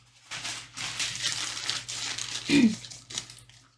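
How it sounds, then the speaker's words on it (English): Tarot cards shuffled by hand during a reading make a soft, continuous papery crinkling and riffling, fairly close, with a slightly louder burst near the end. "I'm going to shuffle your appearance cards."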